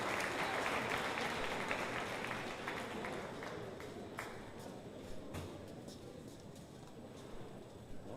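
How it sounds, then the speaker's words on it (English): Audience applause at a youth fair purebred beef cattle show, a broad steady wash of clapping that fades gradually over several seconds, with no talk over it. "Give yourselves a big round of applause."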